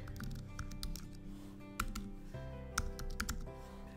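Fingers type a spreadsheet formula on a computer keyboard, crisp key clicks landing in quick irregular bursts close by, over a faint steady background tone.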